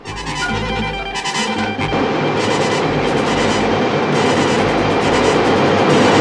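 A subway train rumbles along the rails, loud and continuous, with a clattering rhythm and a brief shift as the cars roll past close by.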